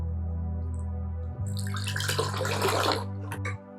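Milk pours into a pressure cooker in a steady stream, building into a louder splashing gush that ends abruptly, over a constant low hum.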